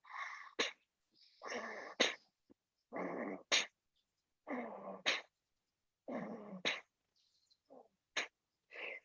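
Forceful yoga breaths pushed out through the left nostril come in a steady rhythm of about six loud, close bursts. Each huff ends in a sharp snap, with silence between them.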